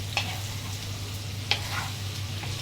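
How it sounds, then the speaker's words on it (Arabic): Garlic and onion sautéing with sausage and kofta in a pan, a soft steady sizzle with a few light clicks of stirring, close and quiet with no talk. "والثوم ياخد كده تشويحه حلوه هو والبصل اهو"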